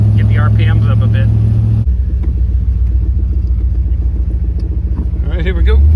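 A 1976 Corvette V8 with a newly replaced distributor, heard from inside while it drives off through a neighborhood: a deep, loud rumbling drone that swells as the revs climb at the start and again near the end, with a voice talking over it.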